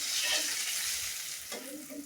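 Pieces of pangas fish from the Padma river fry in hot oil, a steady moderate sizzle with a few soft stirring clunks near the end, no talk.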